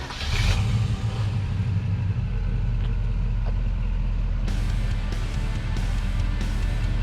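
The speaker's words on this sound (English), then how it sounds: "All right, Walter, why don't you go ahead and fire it up." A 1979 Pontiac Trans Am with its 400 V8 runs at a steady, loud, deep idle, a low rumble that holds throughout with a few light mechanical clicks and no talking.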